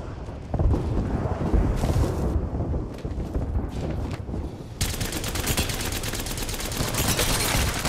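Apex Legends gunfire erupts in loud, dense, sustained bursts of rapid shots that run almost without a break, with a brief shift in tone partway through and no speech.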